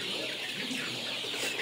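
A flock of 35-day-old Sonali hybrid chickens clucks on a poultry farm, a continuous, busy murmur of calls under a steady wash of background noise.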